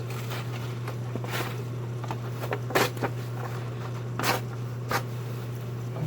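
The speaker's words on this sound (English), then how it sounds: "cut off just a strip of this sandpaper here. Fold it over a couple times and then tear it." A strip of sandpaper being folded and torn while an old swamp cooler is repaired: scattered crinkles and a few sharp ripping bursts over a steady low motor hum, with no voices.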